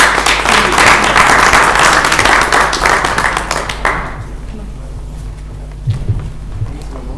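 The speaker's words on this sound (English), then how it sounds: "So please give them a round of applause." Audience at a business conference applauds loudly for about four seconds, the clapping then thinning out into scattered claps and room noise with a faint voice near the end.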